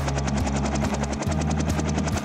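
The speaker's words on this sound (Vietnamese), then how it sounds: "Này là máy bay trực thăng, thật là thú vị." A cartoon helicopter flies in a children's animated song, its rotor giving a steady, fast thudding pulse that holds loud and even throughout, with no voices.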